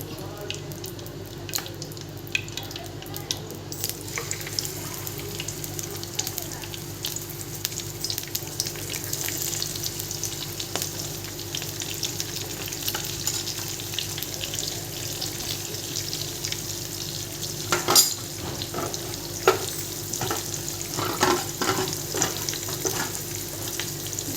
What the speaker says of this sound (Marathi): आता एक एक मच्छी मी तेलामध्ये सोडणार आहे